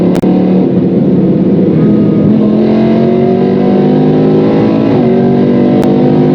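A BMW M3 E46 fitted with a V10 engine, DCT gearbox and lighter E92 M3 flywheel revs hard on the autobahn, a loud continuous engine roar climbing through rising pitch sweeps with brief shifts, close and alone.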